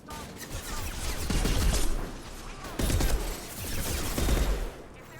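Krogan enemies open fire in Mass Effect 2: dense, rapid volleys of gunfire in several sustained bursts, loud and close, with metallic impacts and a brief lull between the waves.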